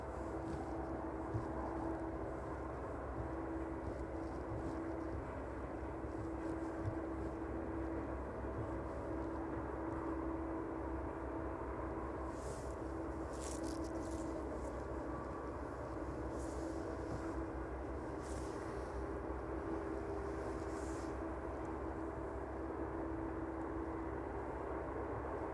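An aircraft approaching East Midlands Airport in the evening, a steady distant broadband engine roar that holds level throughout, with no talk.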